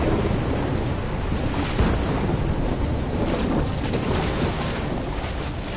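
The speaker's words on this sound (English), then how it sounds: "Waves hitting now!" Storm-driven ocean waves crash and roar in Call of Duty: Black Ops 3, a loud, continuous broadband surge with heavier swells breaking through and no clear speech over it.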